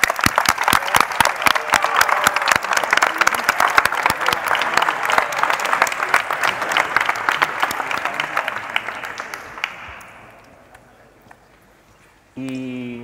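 A crowd applauds at the closing and awards ceremony of the T3chFest 2017 tech event, loud dense clapping for about ten seconds that fades out, followed by a voice starting to speak.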